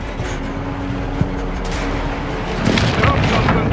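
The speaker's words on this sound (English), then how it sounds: "Friendly platform airstrike inbound." A deep, rumbling boom from an airstrike swells in the second half of a Call of Duty Modern Warfare 2 match, after a voice speaks over a low battlefield drone.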